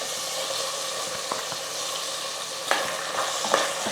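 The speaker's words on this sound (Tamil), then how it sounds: "உப்பு சேர்த்து ஒரு நிமிஷம் வந்து காய் நல்லா வதங்கிடுச்சு இப்போ நம்ம அரைச்ச பேஸ்ட் வந்து சேர்த்துக்கலாம்" Ivy gourd sautéing in oil as a ground masala paste goes in for a masala gravy, giving a steady sizzle with a few louder stirring scrapes near the end and no talking.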